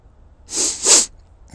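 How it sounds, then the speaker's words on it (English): A single close sneeze, a sharp two-part burst with an inhaled lead-in and explosive release, alone in a quiet room. "trying to sneeze here."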